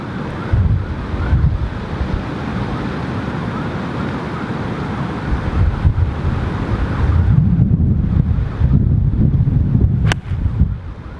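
Strong wind on a coastal golf course buffets the microphone in loud, continuous gusts with a rough, roaring rumble that surges and eases throughout.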